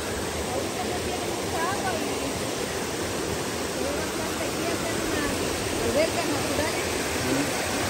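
A river waterfall roars in a steady, loud wash of rushing water that stays even and continuous throughout, with no pauses or breaks in the flow.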